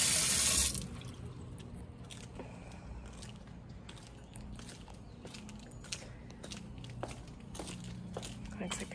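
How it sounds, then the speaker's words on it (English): An outdoor kitchen water tap in a backyard runs steadily with a soft hiss and splashing, after a brief louder burst at the start, with light scattered clicks and rustles over the flow. "See if the water works."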